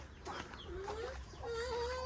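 Chickens cluck and squawk up close as they are caught to be raised out at the rice field, with short agitated calls and scuffling in a quiet outdoor setting.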